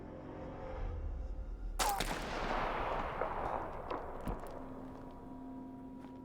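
A single sniper rifle shot rings out in the war survival game This War of Mine, a sharp crack followed by a long fading rumble and echo over quiet ambient game sound. A voice briefly speaks just before it.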